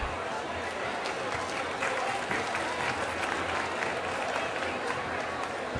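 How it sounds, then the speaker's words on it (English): An outdoor audience at the Harlem Week 2012 event at Gracie Mansion in New York breaks into dense, continuous applause, a steady wash of many hands clapping at a distance for the full length, with a little crowd noise mixed in. "Please welcome with a round of applause John Noel, WNBC4"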